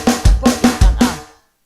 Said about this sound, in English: And it sounds like this on the snare.